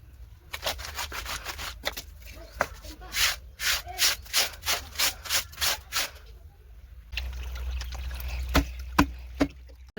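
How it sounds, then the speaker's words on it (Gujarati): Clothes being scrubbed by hand at home, heard as a rhythmic series of close, rough rubbing strokes, pausing briefly before a wetter stretch with running water and a few more scrubs. "હું કપડાં ધોવા બેસી ગઈ છું"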